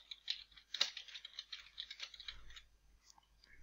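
Quiet, rapid clicking of keys on a computer keyboard, a short burst of continuous typing up close.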